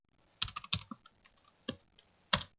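Keys on a computer keyboard are tapped one at a time in an irregular sequence, a handful of crisp close clicks separated by short pauses in a quiet room.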